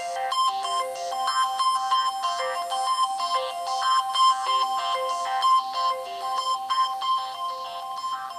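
A stock ringtone on the Samsung Galaxy Nexus phone: a steady, melodic electronic tune of bright repeating notes, played alone at moderate volume for several seconds.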